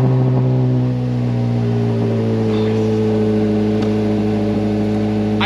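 A 2021 Chevrolet Corvette engine drones and revs while driving, a loud steady mid-pitched tone that holds throughout with slight pitch shifts.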